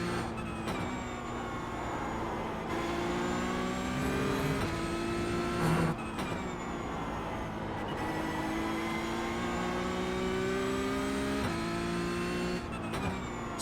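A GT3 race car racing at the Nürburgring in a video game, its engine droning loudly and repeatedly climbing in pitch through the gears, with sharp breaks at each upshift and other cars nearby.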